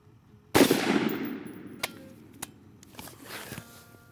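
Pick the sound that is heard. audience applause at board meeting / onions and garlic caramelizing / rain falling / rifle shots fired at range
rifle shots fired at range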